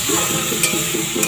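Vegetables for a potato and egg curry being sautéed and stirred in oil, a close, loud continuous sizzle with a couple of brief spatula scrapes over a short stretch, no speech.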